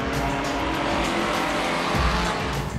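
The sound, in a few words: muscle car V8 engine running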